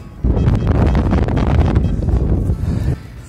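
Heavy wind buffeting a microphone outdoors during metal-detecting for old coins, in loud, gusty roars that start abruptly and cut off near the end, with no speech.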